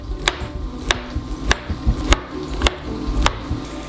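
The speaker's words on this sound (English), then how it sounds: "Place them on your cutting board and just give them a chop" Peeled steamed chestnuts are chopped with a knife on a cutting board: six sharp, evenly spaced knocks, close and loud, with quieter handling in between.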